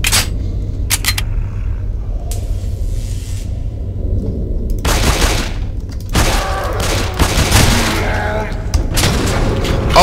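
Gunfire in the zombie shooter game SAS Zombie Assault 4, heard as loud bursts of shots, short at first and then dense and sustained, with a person talking over the action.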